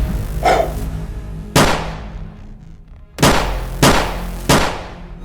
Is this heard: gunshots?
yes